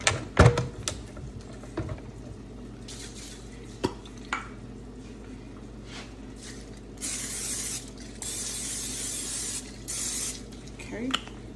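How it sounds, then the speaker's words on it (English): Oil spray hisses onto a waffle maker in two sustained bursts, close and fairly loud, with a few light clicks and clatters in an otherwise quiet kitchen. "This is the spray that I'm using to spray the maker."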